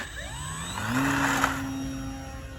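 E-Flite 850mm Pitts S-1S electric RC plane motor spooling up to a quarter throttle and holding a steady high whine for a couple of seconds, near and loud.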